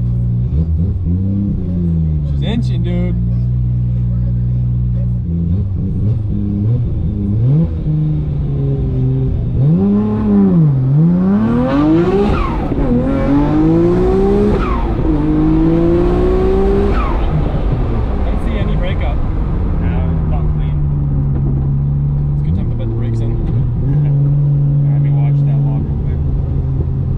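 A Nissan R34 GTR engine roars loud and close through repeated pulls, its pitch climbing in sweeping rises with drops at each shift, then settling into a steady drone near the end.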